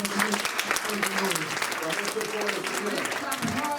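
A church congregation claps during a Sunday service, dense continuous applause mixed with voices and crowd noise, loud and close throughout.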